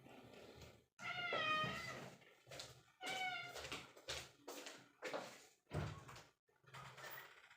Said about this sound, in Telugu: ఓకే, మా క్యాట్ అరుస్తూ ఉంది